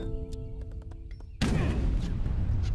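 In the Age of Empires III video game, cannon fire starts midway as a sudden loud blast followed by a rumbling, crackling volley of battle noise, after quieter game clicks and chimes.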